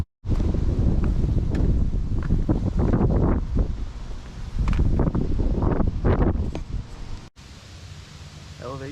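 Strong gusty wind on a mountain ledge in the Mt. Tom and Mt. Holyoke ranges buffets the microphone in loud, rumbling bursts, easing briefly near the end.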